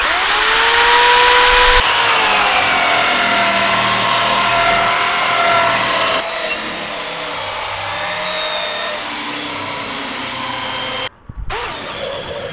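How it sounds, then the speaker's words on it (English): A power brush sander scours old coating out of the grooves of weathered decking boards with a loud, steady motor whine and rough scrubbing that drops in pitch partway through, then cuts out briefly near the end. "That's where my clever brush sander comes into play."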